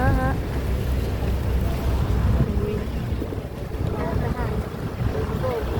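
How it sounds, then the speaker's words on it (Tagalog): Steady rumble of a speedboat moving over rough sea off Boracay, with wind buffeting the microphone and occasional voices mixed in the background. "Sakay na kami sa bangka."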